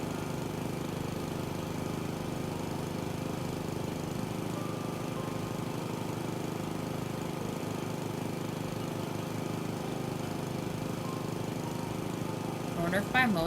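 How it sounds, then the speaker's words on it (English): Lawn mower cutting yard grass in House Flipper 2 runs as a steady, droning engine hum throughout, constant and mid-loud, under a person talking. "I'm just gonna mow all of this real quick so I can sell this and be done with it"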